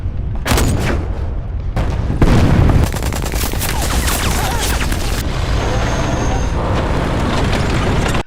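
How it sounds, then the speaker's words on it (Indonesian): Loud, heavy anti-tank gun fire and blasts aimed at a German tank in a war film about Russian troops, booming shots over a continuous roar of battle with no pause. "Senjata anti-tank mulai ditembakkan ke arah tank Jerman itu."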